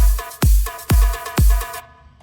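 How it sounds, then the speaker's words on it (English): Electronic future rave drop drums: three heavy, evenly spaced kick hits with deep booming tails over a bright sustained synth layer, ending abruptly into near silence. "The second half drop drums sound like this again."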